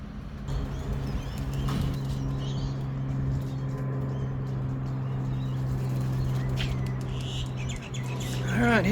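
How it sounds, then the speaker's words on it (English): Racing pigeons return home after a 256 km race, with cooing and scattered chirps over a constant low engine-like hum and a flutter of wings near the end. "Alright, here's pigeon number 2, oh, and number 3."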